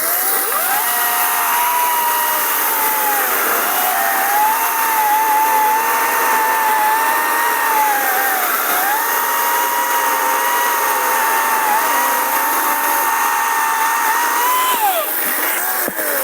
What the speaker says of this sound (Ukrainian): Так, пробуємо відпилять берест.